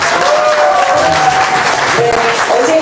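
Loud applause from members at a party meeting in a Daejeon cultural hall, dense and sustained throughout, with a voice over the clapping.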